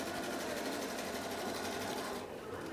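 A sewing machine stitches wig hair in a fast, steady, close-up whir of the needle, continuous and fairly quiet, with only a slight change in tone near the end.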